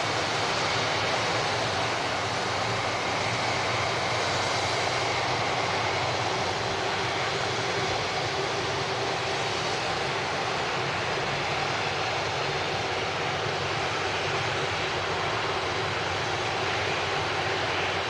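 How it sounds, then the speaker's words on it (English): A Royal Canadian Air Force aircraft at Manchester Airport, its engine a steady, loud, broadband roar holding evenly throughout with no voices over it. "Royal Canadian Air Force visiting Manchester Airport here"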